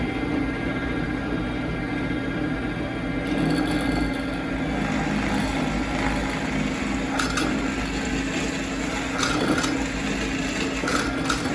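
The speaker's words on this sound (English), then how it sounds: "So I'm gonna go ahead and get these holes drilled with this clamp," Holes being drilled in a crankbait belly weight mold held in a clamp: a steady, droning motor hum with a few faint higher whines, continuous and moderately loud throughout.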